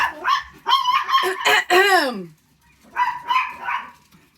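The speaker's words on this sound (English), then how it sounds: "I really wish that I could do this when there wasn't going to be any barking" A household dog lets out a run of loud, close barks and yelps with a drawn-out howling whine, then after a short pause gives a second, shorter burst.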